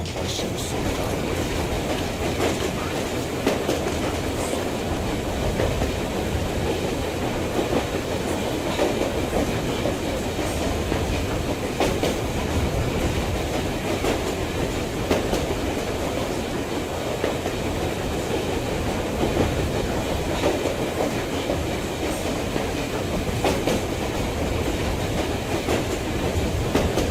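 Steady rumble and rhythmic clickety-clack of a rail car riding along tracks in the Metro Exodus game, with continuous wheel and carriage noise that holds evenly at close range throughout, with no voices.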